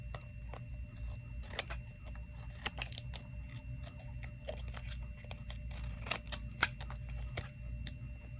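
Scissors cutting material in a quiet room, a series of short, crisp snips and blade rasps scattered irregularly over a steady low hum, fairly close and moderately quiet.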